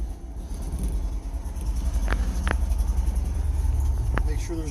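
A 65-year-old BMW Isetta's small engine putters and rumbles steadily as the car pulls away on a cold day, a low constant drone close by with a few brief clicks over it.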